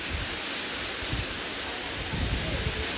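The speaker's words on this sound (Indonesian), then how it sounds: "Hujan-hujan." Steady rain falls outdoors, a dense even hiss with low rumbling wind-like bursts, close and continuous.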